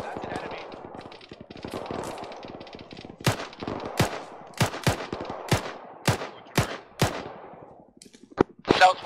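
Automatic gunfire in a multiplayer shooter battle on a hill, rapid bursts giving way to a string of heavy spaced shots, loud and near, with a voice speaking through the din.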